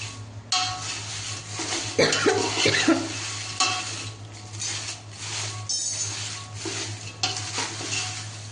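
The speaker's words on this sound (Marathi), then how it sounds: "आता आपण या मिरच्या छान परतून घेऊया" Dried chilies roasting in a pan for black masala, stirred with a slotted spoon and ladle: a steady close scraping and clinking of metal over a soft sizzle, with rhythmic stirring strokes.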